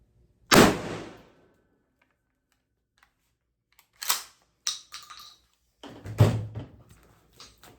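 A 12 gauge shotgun loaded with number 4 shot fires one loud, sharp blast that decays quickly, and after a pause a few more clattering impacts and a second heavy thump follow.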